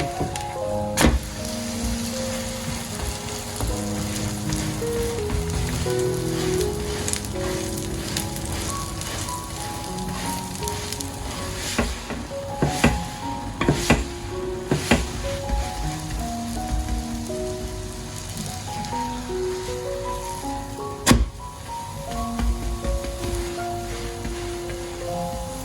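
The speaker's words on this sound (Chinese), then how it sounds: "煎至金黄色，再翻个面继續煎。" A banana glutinous rice cake, flipped over in an oiled flat pan, keeps frying with a continuous gentle sizzle and occasional light clicks, all under background music.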